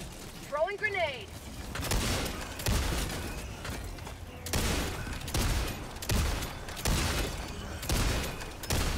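Bursts of gunfire crack repeatedly in a shooter game, with a heavier blast among them, while someone speaks over the chaotic, fairly loud fighting.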